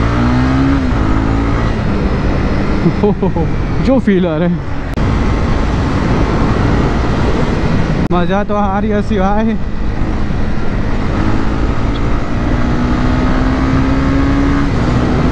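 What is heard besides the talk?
Honda CB300R motorcycle accelerating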